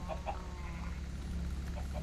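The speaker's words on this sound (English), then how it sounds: "I heard a chicken." A couple of quick clucks from a chicken in Minecraft, soft and brief, over a constant low background hum with no speech.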